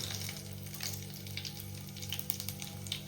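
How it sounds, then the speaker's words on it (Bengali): Bay leaf, dried red chilli and Bengali five-spice tempering in hot oil in a pan, a soft, continuous sizzle with faint crackles, heard close and quiet with no talk. "এই তেলের মধ্যে আমরা ফোড়নে দিয়ে দেবো তেজপাতা, শুকনো লঙ্কা আর পাঁচফোড়ন"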